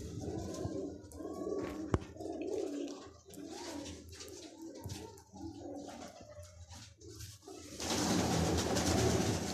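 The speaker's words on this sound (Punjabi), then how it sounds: "ਇਹ ਵੀ ਗੋਲਡਨ ਕਬੂਤਰ ਹੈ," Golden pigeons kept by a pigeon fancier give a run of low, rhythmic coos close by, with a sharp click near the start and a broad rush of noise over the final seconds.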